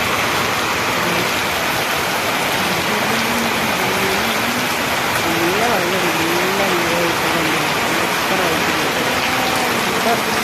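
Heavy rain falling hard outside a house, a constant loud roaring hiss that never lets up, with people's voices murmuring beneath it.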